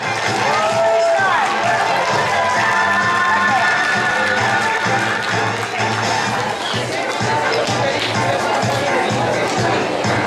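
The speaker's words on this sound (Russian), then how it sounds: "аплодисменты ваши" A school crowd at a girls' contest show for International Women's Day claps and cheers loudly for the winning class team. A thick, sustained wall of hubbub and noise with a few whistling tones lasts about ten seconds.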